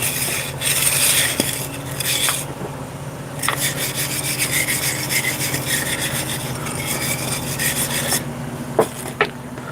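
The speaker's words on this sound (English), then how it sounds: "Get rid of all the rust in here" Steady rasping scrape of a tool across rusty metal aboard a boat, continuous strokes with brief pauses and a couple of sharp knocks near the end, fairly close.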